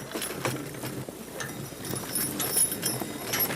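Hooves of harnessed horses at a driving and pulling event clip-clop in a quick, steady rhythm close by, with faint background noise and no clear talk.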